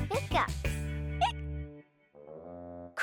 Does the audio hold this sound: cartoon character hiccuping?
yes